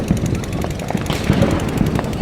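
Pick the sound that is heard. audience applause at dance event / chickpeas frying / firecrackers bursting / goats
firecrackers bursting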